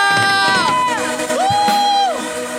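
A church congregation at an Indonesian worship service loudly shouting hallelujah together, drawn-out voices rising and falling in a couple of brief cheering waves.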